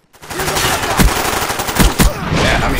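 Gunshots in Call of Duty Black Ops crack loudly and close, several sharp separate shots over a busy rattle of gunfire.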